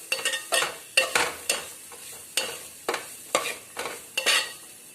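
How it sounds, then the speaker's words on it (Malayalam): Grated coconut with cardamom fries in a pan while a spoon stirs it, producing a steady run of close scraping strokes over a soft sizzle. "ഇത് നല്ലവണ്ണം ഒന്ന് ലൈറ്റ് ബ്രൗൺ ആവണ വരെ ഇളക്കാം."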